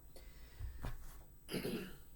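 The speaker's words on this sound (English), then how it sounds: "I got a cough there" A couple of soft, short coughs close by, separated by a brief pause, in an otherwise quiet room.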